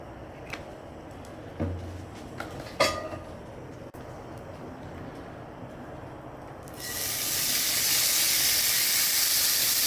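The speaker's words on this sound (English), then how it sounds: "You want that sucker to sizzle" A few scattered clanks and scrapes, then a loud, steady sizzle of steak frying in hot oil starts abruptly and continues to the end, at an outdoor camp cookout.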